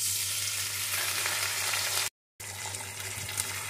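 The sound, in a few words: spices, onion and garlic-chili paste frying in a pan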